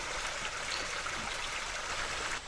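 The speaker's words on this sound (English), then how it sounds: "I wasn't planning on coming up this little side stream, so we did get to see a few little tiny waterfalls" Small waterfalls on a little woodland side stream, a soft continuous rush and trickle of running water, fairly faint and steady with no voices.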